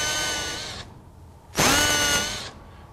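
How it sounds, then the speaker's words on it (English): A power drill whirs loudly as it bores a hole into a wooden clog, running in two close bursts separated by a short pause, with no talking. "This material will probably take a hold of that drill bit, so you best if you don't drill all the way through."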